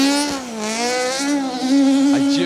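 White and red Cossack-liveried Ford Escort RS 1800 rally car on a forest stage of the Malcolm Wilson Rally, its engine revving loud and close with strong harmonic pitch rising and falling through gear changes.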